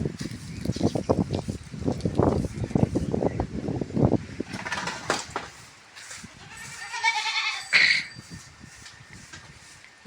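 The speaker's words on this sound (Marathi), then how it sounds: "इथे शेळ्या आहे थोड्याशा," Goats in a farm shed give several nearby bleats, with shuffling and rustling noises through the first half and a louder, wavering bleat near the end, and no talk.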